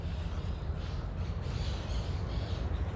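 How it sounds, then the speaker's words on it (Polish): Parrots squawk harshly in the background of a park at Syntagma, Greece, over a constant outdoor hum, distant and fairly faint, with no talking. "Słychać papugi"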